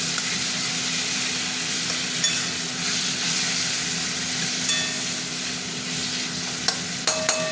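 Tomato fries with onion in a pan, giving a continuous close sizzle and steam hiss, with occasional stirring scrapes and clinks toward the end.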